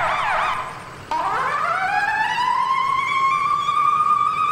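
A loud wailing emergency vehicle siren in the game EmergeNYC, an upward sweeping tone that steadies into a continuous blare, close and prominent over a low background hum.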